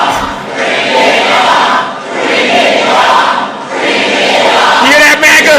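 A large crowd at a Kamala Harris rally cheers loudly in long swelling waves of roaring voices, close and sustained across the clip.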